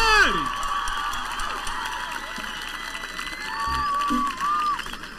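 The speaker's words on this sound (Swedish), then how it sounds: "Nu kommer de jubla och applådera ännu en gång." A concert audience cheers and applauds as a singer is introduced, a loud steady crowd roar with whoops and shouts running throughout.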